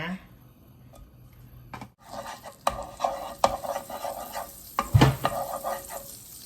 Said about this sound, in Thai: ตั้งกระทะใส่บัตเตอร์ลงไปเลยนะคะ